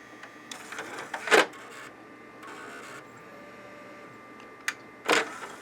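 An Xbox 360 disc drive tray slides shut with a short mechanical whir and clunk near 1.3 s, followed later by a brief click and a second whirring clunk, over a steady low room hum.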